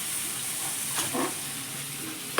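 Onions and tomatoes sizzling in a pan while being cooked for stuffed karela. It comes across as a quiet, steady frying hiss, with a couple of slightly louder stirring bursts and a sharp clack at the end.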